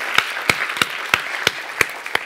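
Scattered claps from a small audience at a workshop session, about seven sharp isolated claps in a slow irregular rhythm, fairly close, with no talking.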